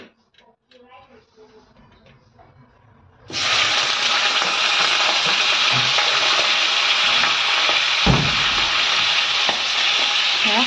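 Meat dropped into hot oil in a pan bursts into a loud, steady sizzle of frying that runs on without a break, with a brief clatter partway through, after a quieter opening of kitchen handling.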